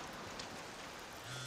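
Rain falls in the Far Cry 6 video game, a faint, even hiss of steady rainfall with no other sounds standing out.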